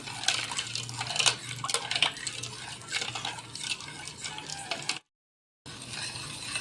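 Mint juice being stirred in a container, a light clinking and swishing that runs steadily before a brief gap of silence, then resumes, with no talking.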